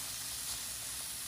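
Zucchini noodles sizzle in a hot pan, giving a steady, close, bright hiss that fills the whole moment without pause or speech.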